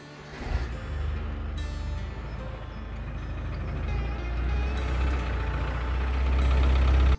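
A Land Rover Defender 300 TDI diesel engine idles with a low, steady rumble that grows slightly louder and rougher over several seconds, close by with no talking.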